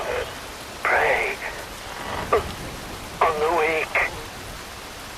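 Steady rain falls in Metal Gear Rising: Revengeance, a constant soft hiss of downpour running under a voice talking throughout.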